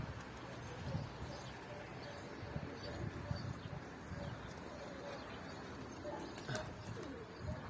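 Pigeons coo softly inside a coop while a person talks nearby, with scattered faint chirps and rustling under a steady background hum.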